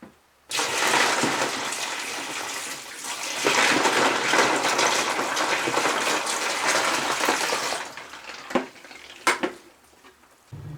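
Water gushes steadily into rubber snow boots for several seconds, loud and close, splashing and churning. A few clunks and handling knocks follow once the pour stops.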